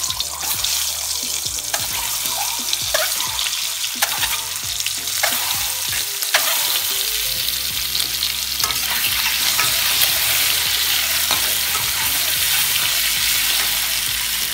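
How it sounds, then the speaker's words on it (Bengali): Turmeric-coated eggs frying in a little oil in a kadai for a Bengali egg curry with potato and brinjal, a steady bright sizzle punctuated by scraping and stirring knocks of a spatula. "ডিমগুলো এবার আমরা একটু ভেজে নিচ্ছি"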